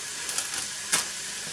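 Beef for a beef and ale casserole sizzling in a hot pan, a steady near hiss with a brief louder spurt, heard alone.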